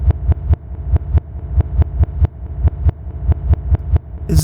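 Reversed Oren character sound from the video game Sprunki: a looping pattern of dull, thumping pulses that swell up and cut off sharply, about three per second in a steady rhythm, with nobody talking.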